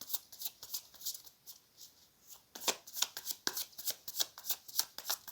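Tarot cards are shuffled by hand in a quiet room, soft rhythmic riffling bursts that grow crisper and quicker partway through, with no talking.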